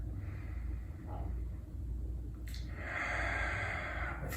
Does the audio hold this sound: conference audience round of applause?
no